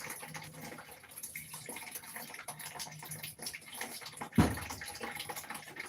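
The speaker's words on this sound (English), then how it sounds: "Wash my hands." Hands being washed under a running tap in a home kitchen while cooking Jamaican curry chicken. Steady water flows throughout, with a sharp splash partway through, and no talking.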